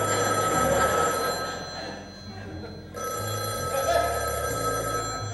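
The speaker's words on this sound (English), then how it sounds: "the phone would ring twice." A telephone rings twice, two fairly loud bell bursts with a short pause between them, set against a steady low background hum.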